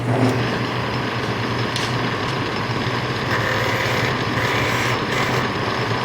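A wood lathe turns a giant chess rook while a skew chisel cuts it, making a steady, continuous whirring drone with a low motor hum and a few faint scraping bursts.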